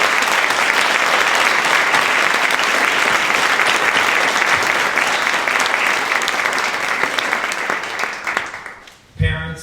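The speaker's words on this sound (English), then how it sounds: "give them a big round of applause" An audience at an athletics celebration applauds, a loud, dense, sustained round of clapping that tapers off near the end before a voice starts.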